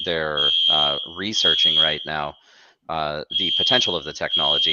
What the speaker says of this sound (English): I don't know if you can hear the fire alarm going off